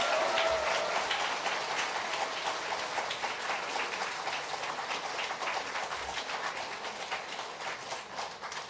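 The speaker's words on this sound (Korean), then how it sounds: "주제를 쓰신 허경영 총재님에게 큰 박수 주시기 바랍니다." Audience applause at a Saturday lecture in a hall, a dense sustained clapping that fills the whole stretch at steady loudness, with no speech over it.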